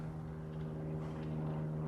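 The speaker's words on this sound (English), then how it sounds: "Hi, airplane." A propeller airplane passes overhead, a steady droning hum with a low tonal whine that holds level and fairly loud throughout, with no talking.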